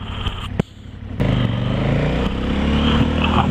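KTM 1290 Super Adventure V-twin motorcycle on a test ride, engine droning steadily and loud with a deep vibrating rumble that rises after a brief dip, plus wind and road noise.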